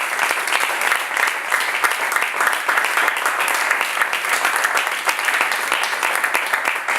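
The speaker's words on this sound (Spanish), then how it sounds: "Denle un fuerte aplauso al Señor." A church congregation breaks into loud, sustained applause, steady dense clapping from many hands filling the room without pause.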